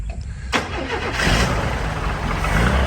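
A 1983 squarebody truck fitted with a built 4-bolt-main 350 V8 cranks and catches loudly, then settles into a rough, rumbling idle that holds steady close to the listener.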